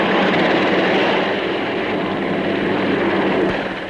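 A large twin-engine military helicopter from the Farnborough air shows of the 1950s drives both rotors on one engine, giving a loud, steady engine and rotor roar that fades slightly toward the end, with no voices.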